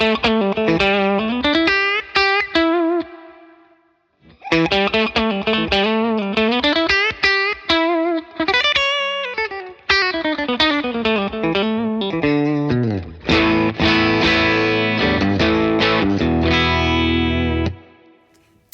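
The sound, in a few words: electric guitar through Victory VC35 Copper amp, gain turned up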